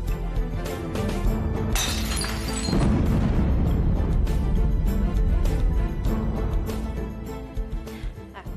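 A crystal ornament shatters in a loud crash of breaking glass, followed by clattering fragments and a sustained dramatic swell of sound, with no talk over it.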